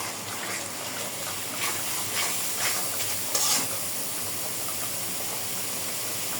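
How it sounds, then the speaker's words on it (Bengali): Dried red chili and turmeric spice paste sizzling in a pan, a steady hissing fry with a few brief scraping stirs midway; no speech. "শুকনো মরিচ বাটা মশলাটা একটু কষায় নেব"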